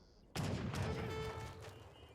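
Heavy cannons fire in a strategy video game, a sudden boom followed by a rolling burst of explosive blasts that fades over about two seconds. The sound is fairly quiet in the mix.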